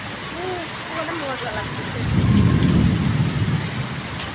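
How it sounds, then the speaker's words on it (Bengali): Heavy rain pours steadily during a thunderstorm, with a deep roll of thunder swelling midway and then fading back into the downpour. Faint voices sit low in the background. "এই বৃষ্টির মধ্যে"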